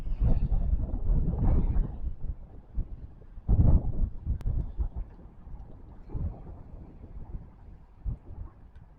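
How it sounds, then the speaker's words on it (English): Strong storm wind buffets the microphone outdoors at a campsite in North Carolina, heavy low gusts rising and falling in irregular bursts, with quieter lulls between them and no speech. "It's awful windy out here."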